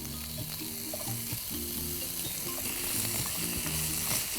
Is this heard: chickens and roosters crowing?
no